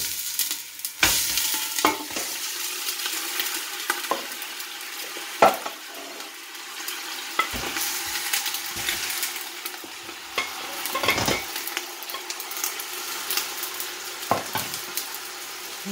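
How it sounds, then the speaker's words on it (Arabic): Meat and chicken frying in hot oil and ghee in a pot for Algiers-style couscous with white sauce, a steady close sizzle with occasional louder stirring scrapes and crackles, no talking. "نخلو شوية يسخن الزيت مع السمن تاعنا، وانا رايحين نرميو اللحم مع الدجاج"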